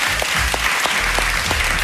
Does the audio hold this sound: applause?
yes